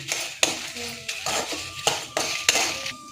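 A metal spoon stirs and scrapes masala and okra frying in a pan in a home kitchen. Repeated clinks and scrapes come in an uneven rhythm close up over a faint sizzle.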